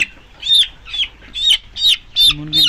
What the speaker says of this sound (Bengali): দেখতে পাচ্ছেন আমি একটা মুরগি ধরছি